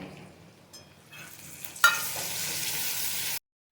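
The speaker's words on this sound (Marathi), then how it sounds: "टमाटे घालूया आपण टमाट्याला छान मऊ सोत मऊसूत होईपर्यंत शिजवून घेऊया" Tomatoes go into a hot pan for a misal masala, setting off a sudden loud sizzle that holds steady and close for a couple of seconds before cutting off.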